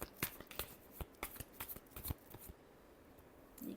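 Tarot cards being shuffled by hand, a quick series of crisp riffling flicks and taps up close, then a pause and one last soft shuffle.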